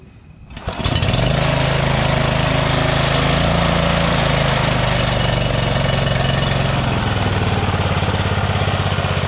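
A Red Hawk 32-inch walk-behind commercial mower engine starts on choke and settles into a loud, steady, close-up roar that runs without a break to the end.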